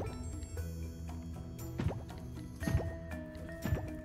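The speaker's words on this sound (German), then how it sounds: "das machen wir auch nochmal mit der Gießkanne" Watering can pouring water over crops in the farming game Coral Island, a soft splashing trickle with a few brief drippy bursts over steady background music.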